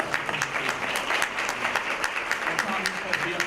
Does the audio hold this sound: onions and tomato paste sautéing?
no